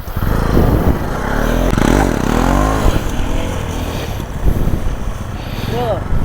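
A stunt motorcycle ridden in a circle during stunt-riding practice: a loud, close engine drone that rises and falls with revving as it turns, overlaid by people talking.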